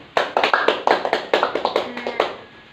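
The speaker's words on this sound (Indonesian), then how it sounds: "Beri tepuk tangan dulu kepada teman kita." Applause in a classroom during a biology microteaching lesson, a sparse run of separate claps from a small group, close and fairly loud with no talk over them.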